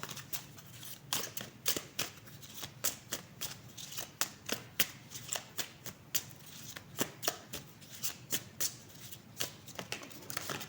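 A deck of oracle-style cards is shuffled close up in a steady run of crisp, rapid papery bursts with short gaps between them. No one speaks.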